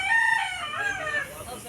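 A rooster crows once, close and clear, in a long wavering call at a fiesta, with no speech.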